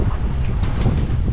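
Wind buffeting and head-on waves churning around the sailboat Sea Pearl at sea between Dominica and Guadeloupe, a loud, rough wash of gusts and surging water.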